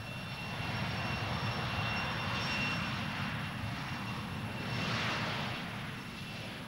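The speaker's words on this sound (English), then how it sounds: "the U.S. Strategic Airlift Command lifted giant cargo planes with men and equipment" A steady, droning roar of large U.S. military cargo plane engines hums continuously at a moderate distance, swelling slightly midway with no voices present.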